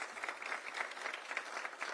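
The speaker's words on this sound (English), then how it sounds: "I want to give them a round of applause" Applause from a modest audience at the grand opening of a manufacturing facility in Frederick, a steady patter of hand clapping heard from a slight distance, continuing evenly throughout.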